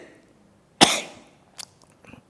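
A preacher gives one sharp, loud cough in the middle of a sermon, followed by two fainter cough-like bursts, with quiet room tone in between.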